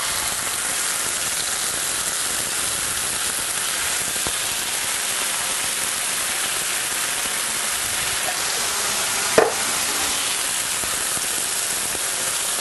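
Diced canned tomatoes roasted with garlic are stirred in a pan, giving a steady, dense wet rustle and sizzle that runs unbroken throughout, with one brief sharp knock near the end.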